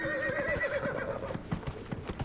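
Rapid hoofbeats of a galloping horse in the video game Dragon Age: Inquisition drum in a quick, uneven rhythm, fairly close and loud, with a brief whinny early on.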